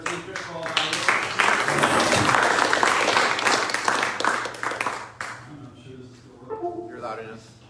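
Applause from a seminar audience at a hall for the presenter; a loud burst of clapping lasting several seconds that fades out, then someone speaks over the quieter room.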